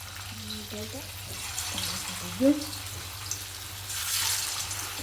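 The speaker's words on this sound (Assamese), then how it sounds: "এতিয়া তেলত ফ্ৰাই কৰিম এইখিনি।" Round bottle gourd pitha fry in hot oil with a steady background sizzle, while muffled speech-like sounds come and go over it and a brief clink sounds partway through.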